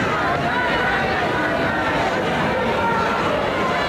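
A wrestling crowd waits for the match in a large arena, producing a dense, constant roar of chatter and babble that fills the space evenly, with no single voice standing out.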